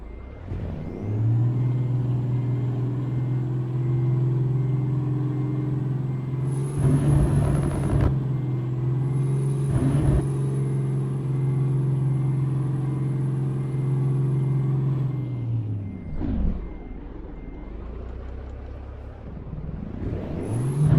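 A custom Peterbilt truck engine in American Truck Simulator runs loud and steady with a deep harmonic drone, rising in pitch as it revs, with air-brake hisses breaking in near the middle and a dip and recovery at the end.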